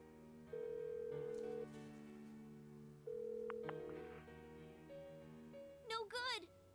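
A phone rings in Persona 4 Golden on an unanswered call, with two sustained electronic ring tones separated by a short gap, followed by a brief warbling chirp, all fairly quiet.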